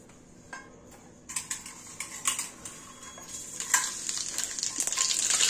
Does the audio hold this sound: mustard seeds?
yes